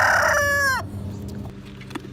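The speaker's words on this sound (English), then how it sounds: "from noisy chickens" A rooster crows loudly up close, its call cutting off abruptly, followed by softer clucking and faint farmyard sounds.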